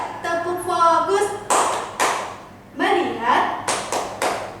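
A class of students chants a call-and-response clapping routine, voices in unison punctuated by short bursts of group claps in a counted rhythm, loud and close.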